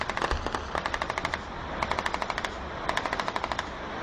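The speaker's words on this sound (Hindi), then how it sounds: "जब मैंने दरवाज़ा खोला तो बाहर फायरिंग की शदीद आवाज़ें आ रही थी।" Heavy machine-gun fire in Kashmir rattles in several rapid bursts of evenly spaced shots, sounding somewhat distant and steady, with no talking.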